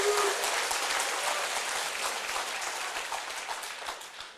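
An audience at a company introduction talk breaks into sustained applause, a dense wash of many hands clapping that holds steady and then slowly thins.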